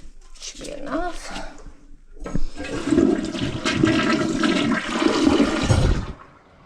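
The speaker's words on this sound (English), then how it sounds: "Is that flushing better than it was?" Toilet flushing just after a clogged drain was cleared, a short gurgle followed by a loud rushing swirl of water that roars for several seconds and then cuts off.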